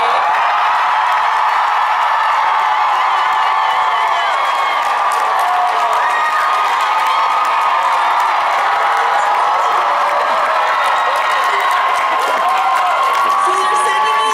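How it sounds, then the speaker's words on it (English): A convention crowd at a Broadway event cheers and whoops for performers about to go on stage, a loud, continuous wash of shouting and scattered clapping with squealing voices, sustained throughout. "So could we all get a cheer for these people that are about to go on stage?"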